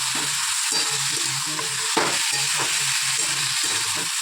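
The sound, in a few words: poppy seeds frying in a pan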